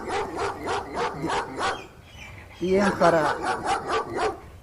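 A dog barks in a fast, regular series of sharp barks, pauses briefly while a voice speaks, then barks again in the same steady rhythm, all fairly near.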